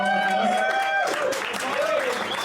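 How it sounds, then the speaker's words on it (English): Live podcast audience at the Grand Social applauding Paul Parker, a dense wash of clapping from a crowded room, with voices and cheers over it across the whole moment. "And I get a massive round of applause for Mr."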